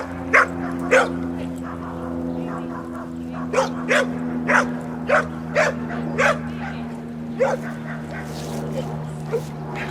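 Dogs running off the leash in Ladner give a string of short, sharp yips and barks at fairly regular intervals, moderately close, over a steady low hum.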